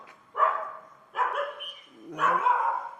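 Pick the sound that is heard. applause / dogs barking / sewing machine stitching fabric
dogs barking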